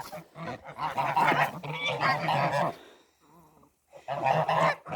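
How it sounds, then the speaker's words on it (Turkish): Geese being fed honk loudly and repeatedly close by, a noisy overlapping chorus with a brief lull before the honking resumes. "Gelin yiyin gel. Bu sıralar kazlar ne kadar iyi beslenip yerse o kadar çok yumurta yumurtlar."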